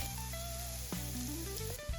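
Chopped onion and garlic fry in two spoons of ghee in a pan, giving a steady low sizzle throughout with a few faint stirring knocks.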